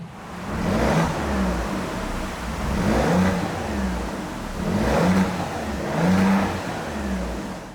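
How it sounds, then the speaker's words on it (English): An Alfa Romeo Giulia Quadrifoglio V6 in its quieter A drive mode, revved several times while stationary. The engine note swells and falls in about four even rev cycles, close and steady, with no talking. "Sounds like a typical V6 in that mode."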